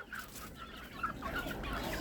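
Chickens clucking close by, several soft repeated clucks over a low background hum.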